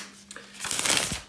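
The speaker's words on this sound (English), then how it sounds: "a couple of seconds here to shuffle the tarot cards" Tarot cards being shuffled by hand, a soft riffling and flicking burst that builds over the second half after a quieter start, close and alone with no talk.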